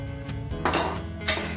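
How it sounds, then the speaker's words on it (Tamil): Utensil scraping and clinking in a pan as Andhra-style pepper chicken is stirred after salt is added, with two louder scrapes standing out over a steady low kitchen hum. "நம்ம இப்போ இதுக்கு தேவையான அளவு சால்ட் போட்டுக்கலாம். போட்டு நல்லா கலக்கி"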